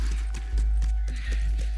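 A horse's hooves clip-clop in a steady, even rhythm in The Last of Us Remastered, close and clear over a low rumbling game ambience.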